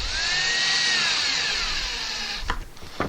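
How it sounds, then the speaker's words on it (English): A power drill whines steadily for a couple of seconds driving a screw into a pegboard, pitch sliding as it works, then stops with a few short clacks and bumps. "get my drill, put my screw in"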